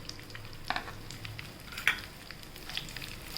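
Roasted vermicelli frying in ghee with fried cashews, almonds and raisins gives a faint, steady sizzle with a few soft clinks of a stirring spoon against the pan.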